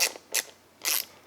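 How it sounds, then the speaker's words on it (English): Torque wrench clicking as it reaches setting while tightening a cleat onto a cycling shoe: three crisp, bright mechanical clicks at uneven intervals, close and fairly quiet, with no talking. "Your torque wrench should make a little click noise somewhere."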